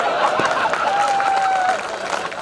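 An audience claps at a Hindi kavi sammelan poetry gathering in Damua. Dense, steady applause fills the hall and eases off slightly near the end.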